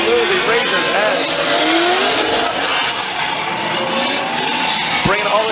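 A supercharged V8 Infiniti G37 and a Nissan 370Z drifting in a Formula Drift Atlanta Top 16 battle, with loud roaring engines, long tire squeals and revving, under an announcer's continuous commentary.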